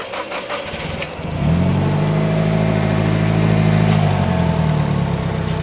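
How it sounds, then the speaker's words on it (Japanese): Nissan S15 Silvia engine cranks and catches after about a second, then settles into a steady, loud idle close by with no talking. "でエンジンかけると"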